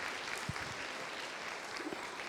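A church congregation applauds the Lord, a short burst of dense, steady clapping from many hands heard at moderate distance.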